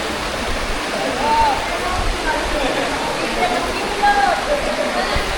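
Water of the Bayaoas river in Aguilar, Pangasinan rushes in a steady, loud broadband wash, with faint bird chirps above the flow.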